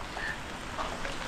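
Continuous rain patters steadily on a rough road in Buscalan, a fairly loud even hiss with a few faint brief tones above it and no talking.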